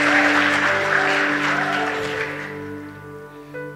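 Church audience applauding a pastor, a dense burst of clapping that is loudest at the start and fades over a few seconds, with a low sustained tone underneath.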